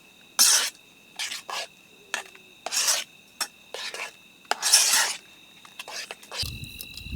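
Salt being stirred into a cooking pot over a campfire outdoors: a series of short, close scraping and rasping strokes in an uneven rhythm, separated by brief pauses.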